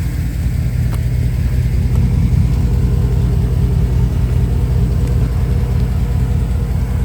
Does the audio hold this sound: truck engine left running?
yes